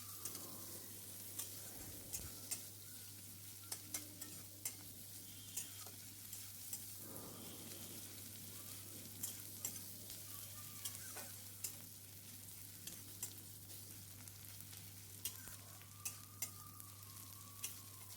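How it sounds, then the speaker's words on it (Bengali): Chopped onion sizzles softly in oil with cumin and curry leaves while being stirred, with regular light scraping taps of a spatula over a constant low hum. "দিয়ে ভালো করে আমি পেঁয়াজটাকে লাল লাল করে ভেজে নেব।"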